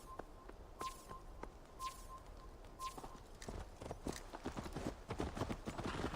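A horse walking on hard ground in the video game Assassin's Creed Valhalla, steady clip-clopping hoofbeats that grow louder and closer, with a faint repeating chime early on.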